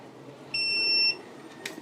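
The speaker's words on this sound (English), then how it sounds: "We will get a beep and the machine will get start" A single steady electronic power-on beep from a Contec 3-channel ECG machine, about half a second, clear and fairly loud over a faint background hum, followed by a brief click.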